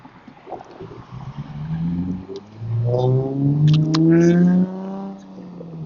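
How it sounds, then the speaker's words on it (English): A passing car with a loud new muffler approaches and goes by on a Long Island street, its deep exhaust rumble swelling and rising in pitch, heard near and loud from a bicycle. "Oh, damn fucking new muffler."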